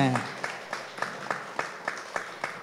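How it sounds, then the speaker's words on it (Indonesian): Sparse, faint clapping from a small audience at a public service mall anniversary event in Jogja, in separate evenly spaced claps about every third of a second, with speech faintly underneath. "Tepuk tangan dulu dong untuk Pak BPD ini ya"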